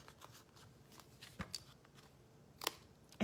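Scissors trim paper along the edge in several quiet, crisp snips and rustles spread unevenly over a few seconds, close by.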